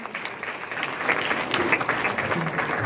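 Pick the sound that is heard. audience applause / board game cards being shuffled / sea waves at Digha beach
audience applause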